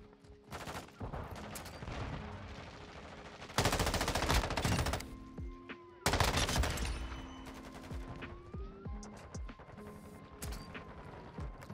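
Bursts of M13B assault rifle fire in Modern Warfare 2, with sharp rapid volleys mixed with reload clicks and mechanical handling noises over about twelve seconds, two bursts notably louder than the rest.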